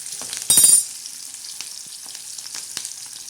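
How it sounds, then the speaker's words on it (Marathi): Onion hits a hot pan with a loud, brief burst of sizzling, then settles into a quieter, steady fry with scattered small pops and crackles, close by and without speech. "आता हा कांदा टाकलेला आहे आपण असा कांदा लालसर होऊन जायचा"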